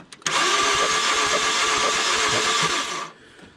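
A Mazda 3 that died cranks without starting: a loud, close, continuous whirring drone from the starter lasts about three seconds, then cuts off with no engine catching.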